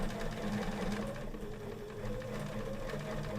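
A sewing machine runs steadily, stitching through a quilt with loose batting under the presser foot, its motor hum and needle rattle continuous and close, with no talk.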